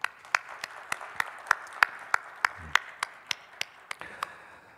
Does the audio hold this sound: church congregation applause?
yes